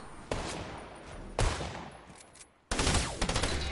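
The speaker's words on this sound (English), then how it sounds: "he hit me with the SMG again." Submachine gun fire in a video game: loud, abrupt bursts of rapid shots with a sustained rattling stretch, a brief gap, then a dense closing volley, with no talking.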